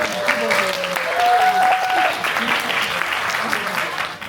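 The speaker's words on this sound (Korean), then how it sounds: "조금 박수를 부탁드립니다." Audience applause welcoming the company CEO as he is introduced at a university talk event, a steady, dense clapping from a room of people lasting several seconds before tapering off.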